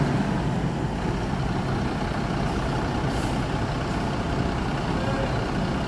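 Loud, continuous diesel rumble of a PT ALS bus pulling into a parking lot, with a steady engine drone filling the whole stretch and faint background voices.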